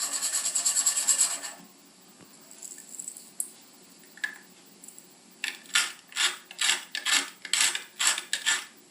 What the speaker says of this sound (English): Just a little shake of the pan slowly works the butter into the juices.